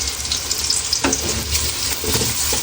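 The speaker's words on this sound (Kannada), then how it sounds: "ಕರ್ಬೇವನ್ನ ಆ್ಯಡ್ ಮಾಡ್ಕೊತೀನಿ" Curry leaves frying with onions in ghee and oil, a loud, continuous crackling sizzle with brief stirring scrapes now and then.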